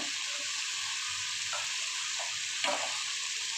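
Parboiled potatoes tipped into a pan of hot oil for an egg, potato and capsicum curry, a steady close sizzle with a few soft stirring scrapes, no voices.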